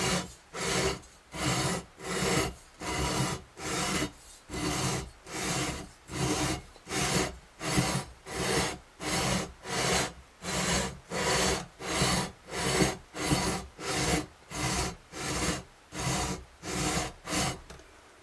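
Steady back-and-forth rasping of a sanding beam leveling guitar frets, about twenty even strokes in a regular rhythm, close and alone.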